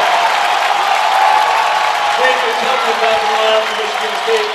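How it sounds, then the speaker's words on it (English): A basketball crowd at a Michigan versus Michigan State men's game roars and applauds after a turnover, a steady wash of cheering under an announcer talking. "Crowd goes wild."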